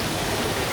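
Düden Waterfall in Turkey roars with a steady, dense wash of rushing water, loud and close, with no break and no voices over it.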